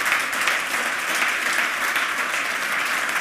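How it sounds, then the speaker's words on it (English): Sustained applause from a conference audience after a talk, a dense steady clatter of many hands clapping throughout. "let's give the speaker another round of applause"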